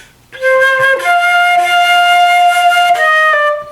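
A flute sustains a long, steady note for nearly its full length, framed by brief notes at the start and end, played clearly and close.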